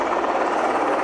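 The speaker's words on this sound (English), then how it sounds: "Oh. Helicopter." A helicopter flies nearby with a loud, steady, whirring rotor drone that fills the short moment without any voices.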